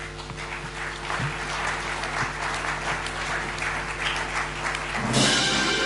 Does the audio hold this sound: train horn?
no